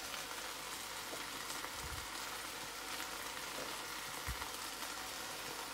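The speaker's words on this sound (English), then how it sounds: "I've just got two of the turkey steaks there cooking" Two turkey steaks frying in a pan, a continuous close sizzle with dense crackling spits and two soft low knocks, no talk over it.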